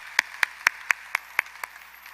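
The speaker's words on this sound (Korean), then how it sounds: "우리 박수 한번." Applause from a church congregation during a Friday worship service: about seven sharp, evenly spaced claps in a steady rhythm, fairly close, with no talking over them.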